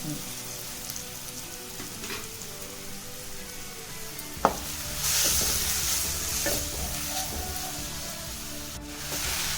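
Green chillies and onion pieces fry in oil in a pan, giving a continuous close sizzle with occasional stirring scrapes. A brief sharp knock comes midway, and the frying swells a little louder afterward.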